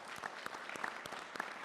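Town council meeting audience applauds first responders with steady, continuous clapping from a room full of people, moderately distant and fairly quiet.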